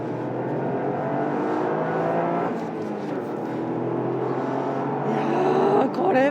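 A 2025 Toyota GR Yaris (MY25) is driven hard on a race circuit, its engine droning loudly and climbing toward the rev limiter, with a rising harmonic whine near the end while a voice talks over it.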